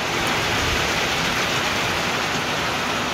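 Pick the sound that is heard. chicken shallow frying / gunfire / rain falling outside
rain falling outside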